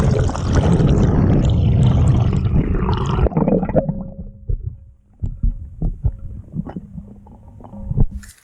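Water, about half a litre, pours into a small camping pot in a steady rushing stream for several seconds, then gives way to scattered knocks and clinks of the pot and stove.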